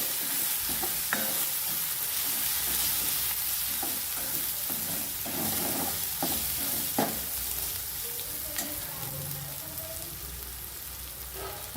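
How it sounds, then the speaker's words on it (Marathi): Green chilies and garlic frying in oil for a drumstick dal, a steady close sizzle running throughout with scattered scrapes and taps of a spoon stirring the pan. "छान तेलामध्ये परतून घ्यायचे कारण हिरव्या मिरचीचा लसणाचा जरा कच्चापणा जातो"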